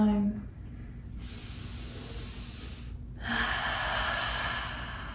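Slow, deep breathing during yoga stretches: a long airy inhale and then a fuller, louder exhale, close to the microphone over a soft steady background hum.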